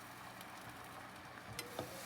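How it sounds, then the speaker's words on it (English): Scrambled eggs sizzle steadily in a hot pan, a continuous soft frying hiss with a couple of brief crackles near the end, with no talk. "Because as you can see, it's sizzling."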